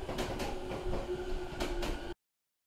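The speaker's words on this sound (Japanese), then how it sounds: "まもなく2番線に上り列車が参ります。" A train rumbles and clatters close by with a steady tonal hum and a few sharp clanks as it arrives at platform 2 of Shin-Maebashi Station, then stops abruptly.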